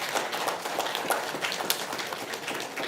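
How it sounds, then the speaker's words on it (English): Audience applause for a JROTC Color Guard group from Veterans Memorial High School at a school board meeting, a steady stretch of dense, mid-distance clapping with no talking over it. "another round of applause for our JROTC Color Guard group from Veterans Memorial High School"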